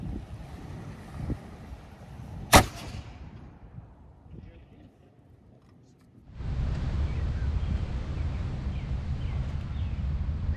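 A historic black powder cannon fires with a reduced charge at a colonial fort, letting out one sharp, loud boom that rolls off into a fading rumble. Wind and a steady outdoor hiss follow.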